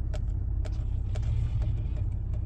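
A 2015-or-later Ford F-150 pickup engine idles with a low, steady rumble, punctuated by regular faint clicks or ticks.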